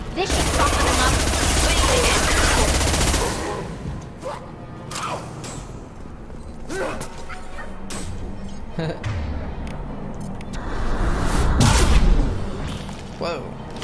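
Loud explosions and bursts of gunfire-like blasts in the sci-fi shooter Mass Effect 2, aboard a derelict Reaper, a dense barrage at the start and another swell near the end, with scattered booms between.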